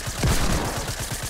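Revolver gunfire in Fortnite: a burst of sharp, loud shots close together near the start, then a steady wash of game noise.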